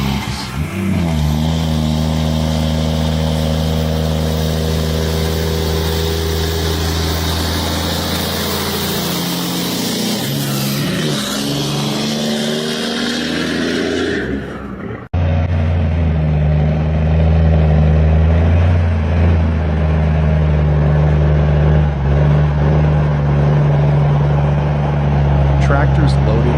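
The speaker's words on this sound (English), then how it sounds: "The tires dig into the icy surface as the powerful engine roars, pushing the heavy load upward" A heavy logging truck hauling a load of logs strains up a steep icy incline through frozen wilderness, its engine droning loud and steady, shifting tone midway and rising in power, with constant road noise.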